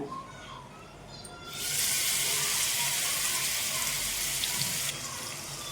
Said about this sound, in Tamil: இப்போது இன்னும் அடுத்த செட் போட்டுக்கலாம் ஃபிஷ்ஷை